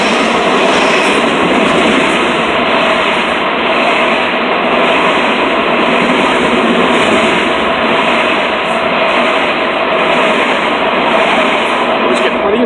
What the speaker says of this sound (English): Here comes another train. This train's not in service.